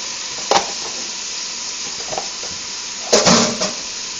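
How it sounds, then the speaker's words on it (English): Green peppers and tomatoes with onion sautéing in a pan for Jamaican brown stew chicken, a steady soft sizzle broken by a few sharp scrapes and stirs. "And I'm going to saute that real good."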